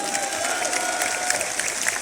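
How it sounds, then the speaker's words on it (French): A crowd at an outdoor rally in front of the health ministry in Paris applauds steadily, a dense continuous clatter of many hands with a few louder claps standing out. "Un tonnerre d'applaudissements pour Patrick Mignon."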